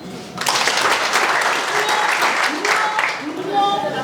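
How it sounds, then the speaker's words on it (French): An audience applauds at a Cameroon event held in a hotel, a full, steady clapping that swells in after a brief quiet start, with voices mixed in beneath it. "On applaudit."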